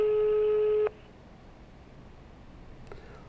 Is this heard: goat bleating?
no